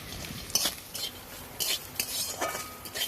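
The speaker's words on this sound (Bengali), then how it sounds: "এবার ডালের বড়িগুলো ভেজে নেব।" Lentil dumplings (dal bori) frying in mustard oil are stirred in a pan, giving repeated close scraping and clinking strokes over a faint, low sizzle.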